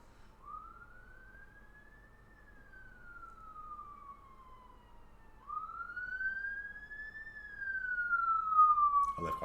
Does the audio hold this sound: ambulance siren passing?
yes